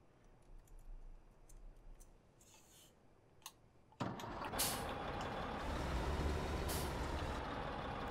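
In Farming Simulator 17, a quiet idle gives way to a sudden loud Cummins tractor engine start, rumbling steadily with bursts of hissing air releasing over it.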